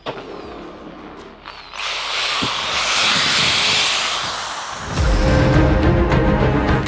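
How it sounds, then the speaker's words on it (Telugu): A power drill runs during a nose-drilling stunt on the Telugu's Got Talent stage, giving a sustained high whine over a broad hiss that begins after a brief lull and grows louder near the end. "డ్రిల్ మ్యాన్ మన ముందు డ్రిల్ చేయబోతున్నాడు తన నోస్ లో"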